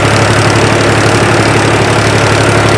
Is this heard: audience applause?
no